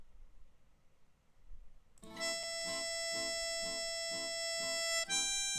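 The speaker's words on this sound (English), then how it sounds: "So this is how melodica sound without any effect." A melodica is played dry with no effects, heard in a mix session for a song. After a quiet start it enters with sustained reedy chords and a rhythmic pulsing pattern, close and full.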